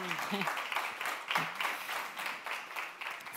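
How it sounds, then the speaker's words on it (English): Faint, thin applause from a small audience at a livestreamed pitch event, steady scattered clapping over a few seconds with a voice briefly audible at the start. "A big applause for Torsten."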